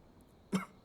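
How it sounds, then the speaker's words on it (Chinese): An ailing older man lets out a single short, fairly faint cough in an otherwise quiet room. "还是咳嗽不止，难以安寝。"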